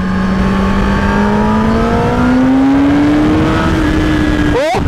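A Kawasaki Ninja ZX-10R superbike engine revs loud and close, its pitch climbing steadily under throttle before a sharp shift-like change at the end.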